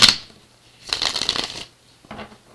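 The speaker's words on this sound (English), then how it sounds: "But it's making it harder for me to shuffle" Close-up riffle and shuffle of a deck of tarot cards, a sharp flick at the start, a longer shuffle in the middle, then a brief final rustle.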